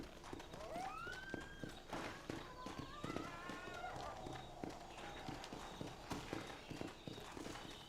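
Horse hooves clip-clopping in the video game Red Dead Redemption, a steady rhythmic trot of close, distinct hoofbeats, with a brief whinny-like call near the start and quiet game sound underneath.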